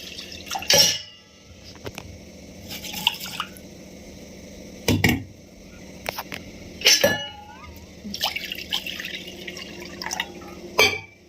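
Lentils (dal) being washed in water, with splashes and drips as the water is swirled and poured, set apart by short quiet gaps, close and moderately loud, plus light clinks of a vessel.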